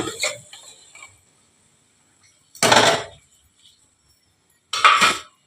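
A metal lid comes off a pot of simmering fish curry with potato stalks in a home kitchen, two short bright clattering clinks spaced a couple of seconds apart, after brief speech at the start.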